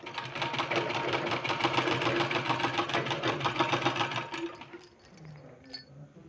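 An electric sewing machine stitches fabric onto a sleeve in a fast, steady rattling run for about four seconds, then slows and stops, with faint handling noise after and no talk.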